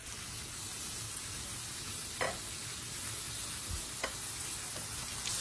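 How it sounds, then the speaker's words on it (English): Homemade potato chips fry in hot oil, a constant hissing crackle close by, broken by a few faint clicks and taps from the pan, with nobody speaking. "I love watching them fry"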